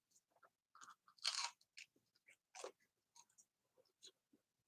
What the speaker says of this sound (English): Now listen, though, you'll be able to hear the crunch.